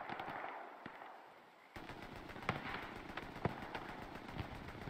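Rockets and gunfire in the World War II video game Hell Let Loose, a faint distant rattle of rapid shots and scattered pops and bangs under a low battlefield rumble, growing busier midway.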